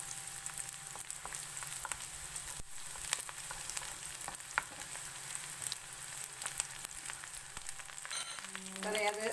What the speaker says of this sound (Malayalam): കുറച്ച് ഉള്ളി കാച്ചി ഒഴിക്കാം കേട്ടോ